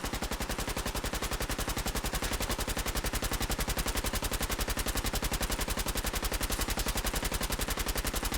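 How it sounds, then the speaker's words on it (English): Sustained automatic gunfire in the video game Fallout 4, a loud, rapid and unbroken stream of shots rattling on steadily for several seconds with no talk over it. "Who is still shooting?"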